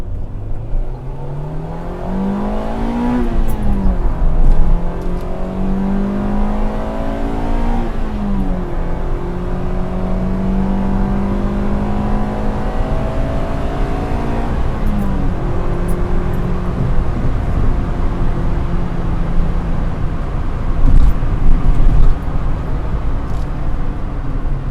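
A manual car's engine rises and falls through rev-matched, heel-and-toe downshifts, with distinct throttle blips spaced several seconds apart over a steady, loud engine hum and road noise.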